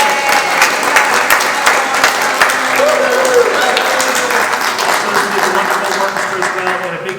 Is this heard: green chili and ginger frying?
no